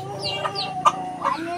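A chicken clucks close by in a short run of quick, throaty clucks and squawks, three or four distinct calls in rapid succession.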